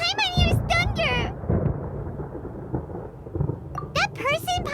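Rumbling thunder in the video game Genshin Impact, rolling low and loud across the clip with bright musical and voice-like game sounds at the start and end.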